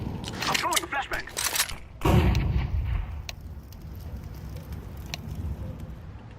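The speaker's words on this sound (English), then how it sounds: "I'm throwing a flashbang." A flashbang grenade in Counter-Strike 2 goes off as a sudden loud burst, followed by a fading rumble, while players talk over the game sounds just before it.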